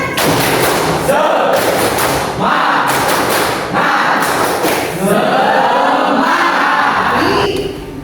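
A classroom of students performs the rhythmic 'tepuk semangat' spirit clap, loud unison claps and shouted chanting in repeated bursts, close and energetic, with voices throughout.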